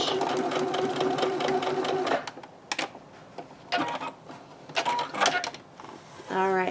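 A sewing machine runs a short back stitch on a scrunchie, with a buzzing motor burst first, then a few separate stop-start whirs and clicks close up.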